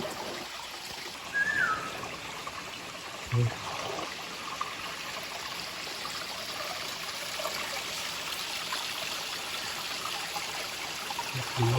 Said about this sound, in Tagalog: buhay na buhay ang tubig dito